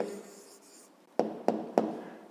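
A pen writes an answer by hand on paper during a fifth-grade maths exercise, a soft scratchy stroke followed by three short, crisp taps or strokes in quick succession, close and quiet with no talking.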